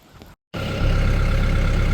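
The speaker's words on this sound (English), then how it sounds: "I don't know if you'll be able to hear me over the tractor." A brief low rumble, a moment of silence, then a loud tractor engine idling steadily with a throbbing, regular low chug close by, on a windy day.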